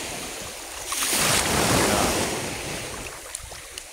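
Sea waves at Mamangal Beach, a shallow shore at high tide: a broad wash of surf swells and recedes, with wind noise in the background and a few faint splashes near the end.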